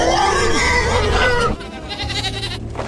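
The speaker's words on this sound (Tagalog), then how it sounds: "katabi ng mga kambing at baboy na buhay, pare-parehong takot at nagwawala sa kanilang pagkakatali" Live goats and pigs tied up and panicking let out loud, close, strained bleats and cries, then fainter calls follow over a low background hum.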